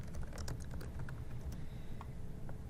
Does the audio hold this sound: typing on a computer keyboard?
yes